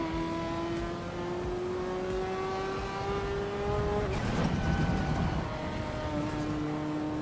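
A Ferrari F40 engine revs and accelerates loudly and close, its rising harmonic whine climbing steadily, breaking into a rough burst around the gearchange, then pulling up again.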